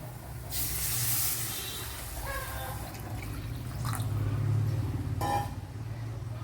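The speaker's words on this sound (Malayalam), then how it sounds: "ഇനി വെള്ളം ഒഴിച്ചു കൊടുക്കാം" Water splashes and hisses as it pours into a pot of Kottayam-style fish curry, a rushing spray with dripping and a few clinks, steady and close.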